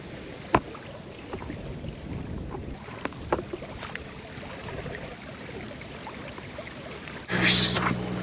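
Steady low rumble of a boat moving across water off the Spanish coast near Cadiz, with wind noise, a few knocks, then a louder surge of engine and splashing near the end.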